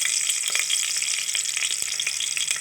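Sliced onions fry in hot oil in a pressure cooker pot, a steady, close, bright sizzle with crackling pops throughout.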